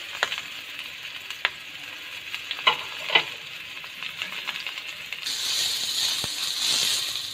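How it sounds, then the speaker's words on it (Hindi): Spring onion and cabbage sautéing in a hot pan, a close steady sizzle broken by sharp scrapes and clacks of stirring, growing louder and hissier toward the end, with no talking. "इसको हमने सिर्फ 30 सेकंड के लिए सौटे करना है"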